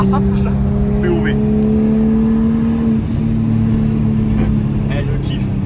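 A BMW E28 528 pulls hard under acceleration, its engine drone steady and close with a slight pitch dip mid-way as a gear changes, while people talk over it inside the car.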